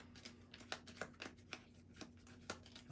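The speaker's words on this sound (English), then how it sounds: "Shuffle the deck." A deck of trading cards being shuffled by hand, a run of soft crisp riffles and flicks repeating about twice a second, close and quiet over a low steady hum.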